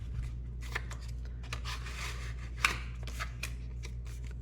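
A sheet of paper is creased and folded into a small zine, giving close, soft swishes and rubbing strokes with one sharper crease snap midway, over a low steady hum and no talking.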